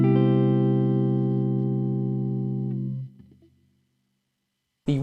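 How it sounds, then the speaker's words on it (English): A major seventh chord rings as the I chord of a ii-V-I progression, sustained and then cut off, followed by silence before a voice briefly starts talking at the end. "And our 1 chord is a major seventh chord."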